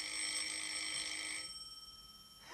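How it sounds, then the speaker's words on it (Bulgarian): A telephone bell rings in a steady electric trill for about a second and a half, then cuts off, leaving a faint hum before a brief click at the end. "Човек не може да си поговори от тези телефони."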